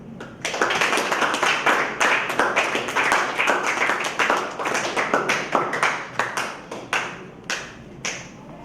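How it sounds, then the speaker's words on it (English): An audience at a Ghanaian real estate awards ceremony claps, with sharp, distinct hand claps that come in uneven bursts and thin out toward the end, close and fairly loud. "Oh, a round of applause."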